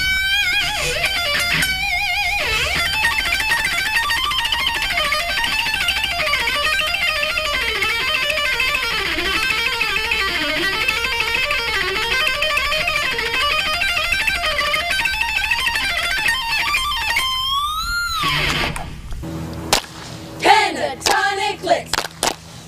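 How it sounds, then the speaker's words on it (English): Distorted electric guitar on the treble pickup plays fast, mean-toned rock lead lines with bends and vibrato, loud and continuous, ending with a few scattered noisy hits and string sounds. "Let me try out with a little more distortion and the treble pickup to get that mean sound"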